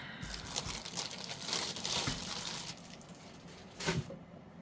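Plastic bags of the kind saved for storing resin molds crinkle and rustle close by in continuous bursts, with a louder crumple near the end and no talking.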